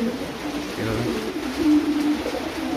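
Fancy king pigeons cooing at a pigeon sale, low soft coos rising and falling over a steady background hum, fairly close, no talking.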